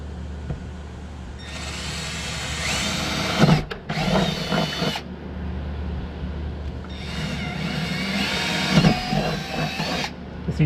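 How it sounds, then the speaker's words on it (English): A power drill runs in two long, whining bursts, biting into a fiberglass car seat with a brief pause between them. "This seat's fiberglass, obviously, so drilling it is absolutely effortless."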